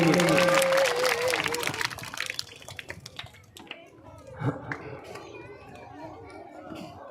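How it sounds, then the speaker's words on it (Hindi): Welcoming applause from an audience at a Hindi address: loud clapping at the start that tapers off within a few seconds, leaving scattered voices and chatter from the crowd. "तो आज भी आपको इनका एक बार तालियों से गड़गड़ाहट के साथ में स्वागत करेंगे"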